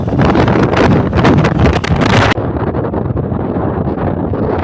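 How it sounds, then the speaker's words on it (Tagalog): Strong wind buffets the microphone with a loud, continuous roaring rush that eases slightly partway through but never stops. "Ay, grabe yung hangin."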